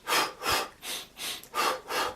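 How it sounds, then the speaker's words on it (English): Rhythmic running-style breathing demonstrated by a running coach: six evenly spaced, breathy in-and-out puffs, close and fairly loud, with no talking. "Breathe in and breathe out based on the steps."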